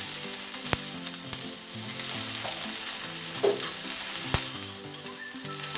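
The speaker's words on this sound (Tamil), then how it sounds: "அதோட கறிவேப்பிலை, ரம்பையும் சேர்த்து இது பொன்னிறமாக வதக்கி எடுத்துக்கொள்ளணும்" Onions and green chilies fry in oil with fenugreek, cumin and urad dal, a busy close sizzle with crackle, broken by a few sharp spoon taps on the pan.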